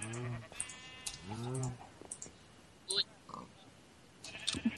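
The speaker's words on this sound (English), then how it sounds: "We got two brown sheep." Sheep bleat in Minecraft, two clear wavering calls near the start and again a second later, close and fairly loud, with soft game noises and a few brief voices scattered around them.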